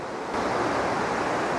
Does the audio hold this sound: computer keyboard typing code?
no